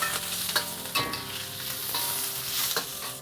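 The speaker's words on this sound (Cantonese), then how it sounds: "油多翻少少，我放埋啲腐竹入去" Bean curd sticks fry in plenty of oil in a wok for braised tofu and roast pork belly, giving a steady close sizzle with several sharp scraping stirs of a utensil against the metal, with no voices.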